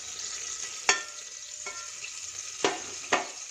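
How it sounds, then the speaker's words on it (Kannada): Mustard seeds, chana dal, urad dal and cumin sputter in hot oil in a pressure cooker pot, a steady sizzle broken by several sharp pops, close and with no talking. "ಇದೆಲ್ಲ ಸ್ವಲ್ಪ ಚಟಪಟ ಅಂತ ಸಿಡಿಲಿ."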